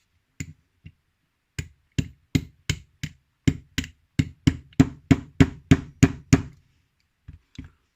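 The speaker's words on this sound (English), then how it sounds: "I think I'm going to have to get a hammer on that." Sharp metallic knocks of a hammer striking a Federal S400 padlock, first a few scattered, then a fast run of about a dozen evenly spaced strikes, ending with two light taps.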